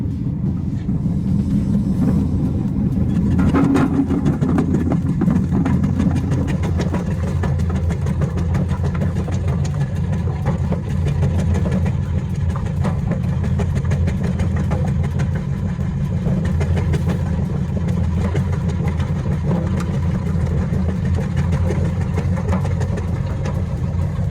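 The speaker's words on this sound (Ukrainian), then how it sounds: "Зараз ми покажемо, як нарізає машина комбо. Ми поставили сюди ніж для бруска. Ми нарізаємо картоплю брусок." STvega Combo industrial vegetable cutter with a bar knife slicing potatoes into 8 mm bars, a steady motor rumble and hum running continuously throughout, with faint clattering on top.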